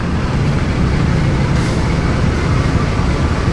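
A passenger train pulls in on track 6 at Pasar Senen station in Jakarta on a morning, giving a loud, steady low rumble of wheels and machinery with a brief hiss partway through.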